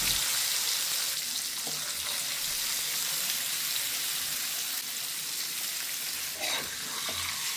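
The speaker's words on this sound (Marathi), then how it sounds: "तर मी सर्व बटाट्याची कापं आहेत ती घालते." Potato slices hiss and crackle in hot oil in a pan, a steady loud sizzle lasting throughout with a few faint clinks, no talking.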